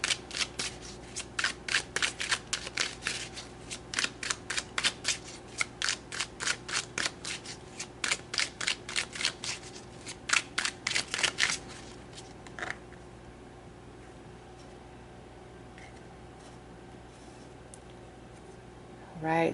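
Tarot cards are shuffled in rapid bursts of crisp riffling for about twelve seconds, then the handling goes quiet apart from faint rustles.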